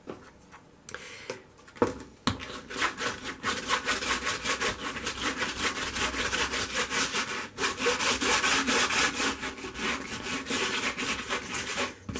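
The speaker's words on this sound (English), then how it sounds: "So I'm just scrubbing the way you normally do." A scrubbing brush works cement into a stained glass panel in quick, rhythmic back-and-forth strokes, giving a continuous close rasping scrub with no speech.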